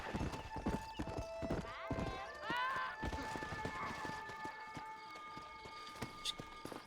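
Steady clip-clop of hooves with a horse whinnying partway through in the video game Red Dead Redemption 2, while a voice talks over it.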